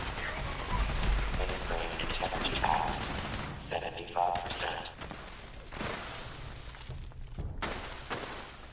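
Rapid bursts of gunfire and explosive booms from the video game Fallout 76, dense and loud through the first half, then thinning to scattered shots.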